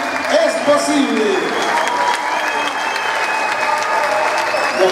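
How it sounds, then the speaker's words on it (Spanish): A crowd at a talent show awards and closing ceremony applauds the audiovisual production students with sustained, dense clapping close by, while a voice talks over the applause. "Y quiero que salgan aquí a aplaudirlo todo el mundo"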